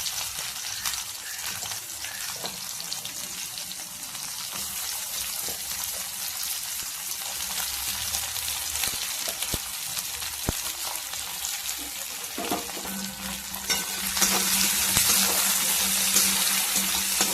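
A large chopped onion sautés in a pan for a vegetable dish, giving a steady hiss that sits fairly low and constant, growing brighter and louder toward the end.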